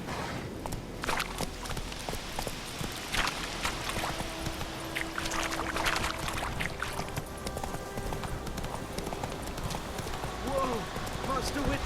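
Roach, a horse in The Witcher 3, clip-clops steadily at a walk, hoofbeats mid-distance over a busy ambient game soundscape with water and other noises, while a voice talks over it.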